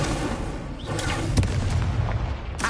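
Incendio fire spells go off in a Hogwarts Legacy duel against a professor on PS5, a string of loud, rough booms and bursts packed closely together over a constant roar.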